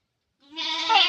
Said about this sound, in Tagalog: Nag-share lang po tayo sa inyo ng bagong panganak na kambing ng tatay.